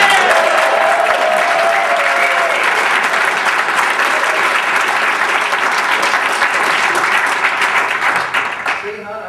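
A conference audience claps loudly and steadily for several seconds, broad continuous applause filling the room before it tapers off at the end.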